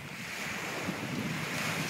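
Surf rolling onto a beach near where the shoreline ends, a steady broadband wash of waves mixed with wind buffeting the microphone, continuous and fairly close with no voices.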